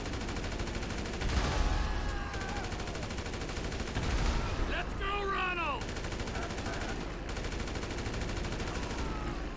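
Rapid AK rifle fire in GTA 5 aimed at the gas tanks of vans, dense bursts of gunshots with explosive booms and crackling debris swelling around the two-second and five-second marks, continuous and loud throughout.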